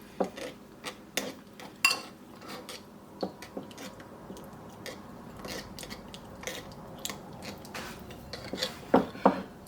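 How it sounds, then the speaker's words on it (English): A utensil clinks and scrapes against a bowl as a thick miso marinade with toasted sesame oil is mixed, squished and stirred. The sharp taps come in irregular bursts over a soft, close rubbing sound. "Now we're going to mix that up so that the miso dissolves into the liquid"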